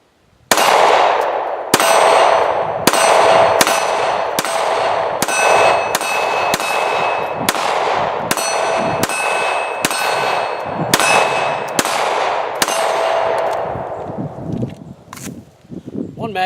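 Polymer 80 PF940C pistol fired at an outdoor range, a steady string of about fifteen sharp, loud shots with ringing metallic tails, evenly spaced, tapering off at the end.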